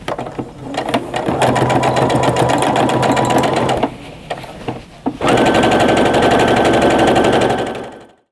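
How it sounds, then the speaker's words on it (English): A sewing machine runs pillowcase seams in two long, loud, steady bursts of rapid needle hammering, close up, with a brief pause and a few clicks between runs. "I'm gonna go ahead and take this one off and sew my other pillowcase as well."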